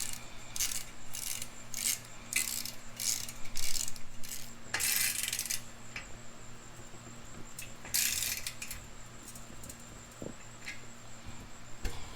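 A hand ratchet works in short, rapid bursts to tighten the clamp on a Carven 5-inch exhaust tip fitted to a Dodge Charger R/T, with a steady hum underneath and a few quieter clicks afterward.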